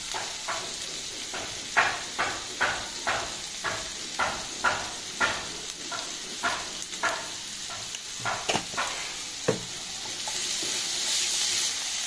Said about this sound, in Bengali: মশলাটিকে ভালো করে ফ্রাই হতে দেবো